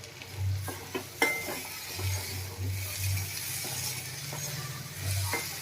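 Dried chickpea curry being stirred in a pan, a soft, steady scraping and gentle sizzle with a few light clinks of the spoon against the metal.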